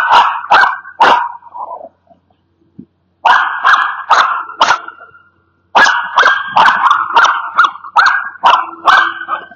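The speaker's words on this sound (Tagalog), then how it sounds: "maingay po yung aking aso kasi pinakahulan niya yung naglilinis po" A dog barks loudly and close in a parking lot at someone cleaning the area, firing off rapid volleys of sharp barks with brief pauses between bursts.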